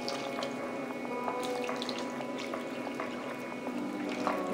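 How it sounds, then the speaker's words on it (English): Gravy liquid poured over turkey wings in a kitchen, a steady close pouring and splashing with a few small drips, continuous and alone. "we're gonna pour this right down over this chicken"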